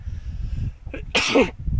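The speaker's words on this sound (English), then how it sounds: "I had to sneeze there." A single sharp sneeze bursts out close by, brief and loud, with low background rumble before and after.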